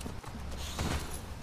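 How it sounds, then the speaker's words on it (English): Horse hooves clip-clop on the ground in The Last of Us Part II, a short run of soft, steady hoofbeats close by with a low ambient bed and no talking. "I'm gonna have to leave the horses here"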